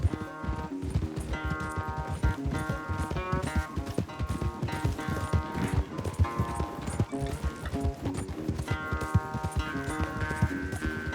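Horse galloping during a race in the video game Red Dead Redemption 2, a rapid rhythmic hoof clip-clop running steadily throughout under loud, dense music and game sound.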